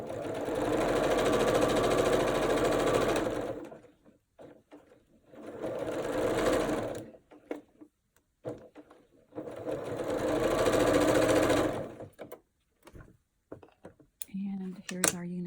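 Sewing machine stitching a Brilliant C4 fabric enclosure, running in three long steady bursts of rapid mechanical whirring with quiet pauses and small handling clicks between them, close and loud.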